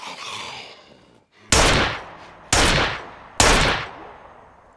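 A handgun fires three loud, close shots about a second apart in the survival game Scum, each with a sharp crack and a decaying echo, after a fainter fading sound at the start.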